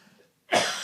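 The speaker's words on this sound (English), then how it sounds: "maybe you're just laughing at me coughing up a fucking lung here" A single harsh, loud cough bursts out abruptly after a short quiet pause, close to the microphone.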